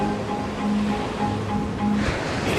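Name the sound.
ocean waves on a beach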